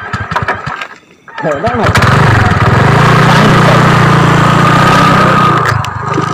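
A motorbike engine catches and runs loudly and steadily close by, a rough continuous drone with a low buzzing pulse, while people talk over it.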